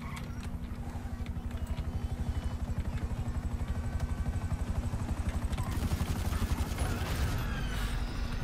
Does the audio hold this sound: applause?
no